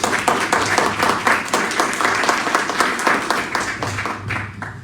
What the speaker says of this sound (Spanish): Fuertes los aplausos nuevamente, por favor, para la Escuela Nacional de Archivística.